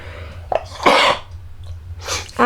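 Sneezes from an allergy sufferer, two sharp explosive bursts about a second apart, close and loud against a quiet room hum.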